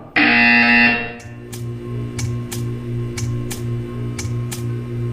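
A harsh electronic buzzer in the video game Portal 2 blares for about a second, then stops, followed by a soft steady hum and a series of quiet regular clicks.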